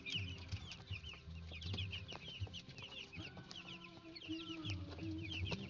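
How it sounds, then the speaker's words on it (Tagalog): Fifteen-day-old broiler chicks cluck and peep softly in a pen, a busy overlapping chorus of short calls with occasional wing flaps, fairly faint and close. "yan po ang ating 15 days chicken broiler"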